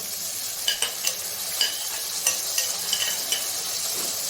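Tomatoes crackle and sizzle steadily in a hot pan after fried garlic, with a few soft scrapes and clinks of stirring.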